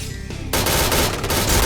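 Rapid gunfire from the online shooter Point Blank, with an HK-417 rifle in play, bursting in abruptly after a brief quieter moment and continuing as a loud, dense volley.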